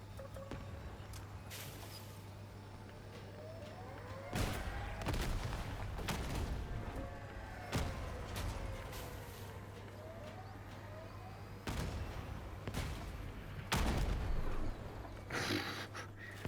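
Gunfire from vehicle weapons in the combat game Crossout, with several loud, sharp blasts spaced irregularly over a constant low hum, plus a few quieter pops between them.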